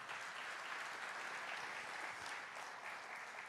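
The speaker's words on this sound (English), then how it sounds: "I think it deserves a round of applause," An audience at a trade and investment forum gives a short burst of steady applause. It is fairly faint and heard from a distance, and no voices are clear over the clapping.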